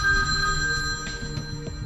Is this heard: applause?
no